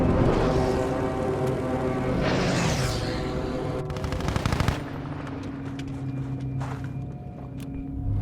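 Loud, close gunfire in Battlefield V's Pacific battles: a sustained machine-gun burst and scattered shots over heavy battlefield rumble, with rapid rattling volleys around the middle and sporadic cracks trailing off.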